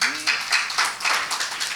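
A church congregation at a Sunday worship service claps for God in a loose, uneven patter of hands, fairly close, with some bursts louder than others; faint voices carry underneath.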